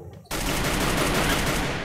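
Sustained, rapid gunfire in a battle royale video game erupts after a brief quiet moment and continues as a dense, loud burst.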